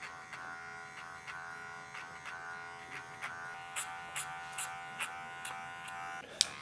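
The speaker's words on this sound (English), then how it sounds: "clipper over comb again, just removing a bit of that bulk" Electric hair clippers buzz steadily at close range while cutting hair over a comb during a men's slamback haircut, with faint repeated snips of contact as the clipper passes through the hair.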